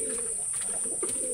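A single pigeon, a female flying bird, coos up close in a short soft burst of low throaty notes over a constant high background whine.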